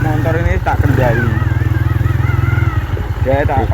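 A motorcycle engine runs with a steady, close, low chugging hum, while people talk loudly over it.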